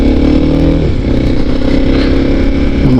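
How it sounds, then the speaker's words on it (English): Kawasaki KLX 300 motorcycle out on a morning ride, its engine a steady, loud, close rumble with wind buffeting, holding a constant drone for the whole stretch with no pauses. "I'm on my Kawasaki this morning, KLX 300."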